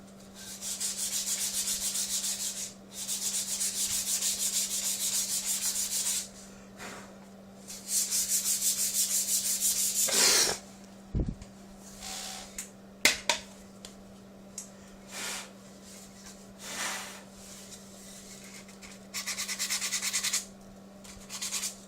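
Repeated bursts of abrasive sanding on a wooden gunstock, loud and close, in strokes of a few seconds each with short pauses between, over a steady low electrical hum.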